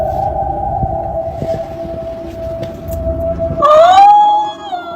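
A steady siren drones, then swoops into a rising wail near the end, loud and close, with no voices over it.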